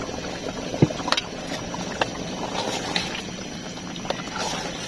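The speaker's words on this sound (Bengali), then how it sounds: "মাশাআল্লাহ আমার মাংসগুলো সিদ্ধ হয়ে আসছে।" Meat simmering in a pot of Eid biryani, a soft continuous bubbling boil at moderate level with a few sharper clinks or pops scattered throughout.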